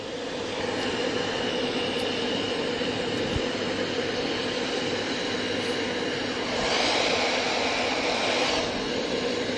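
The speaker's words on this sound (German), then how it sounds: "das ist jetzt also der letzte Helikopter" A steady, loud mechanical roar like a nearby helicopter engine runs throughout, growing slightly brighter toward the end.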